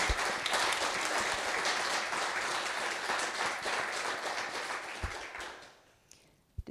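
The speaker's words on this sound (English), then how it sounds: "just another round of applause for just the whole idea of what he's doing" Sustained applause from an audience at a public talk on climate change in the west of Ireland, a dense even clapping that fades out after about five seconds.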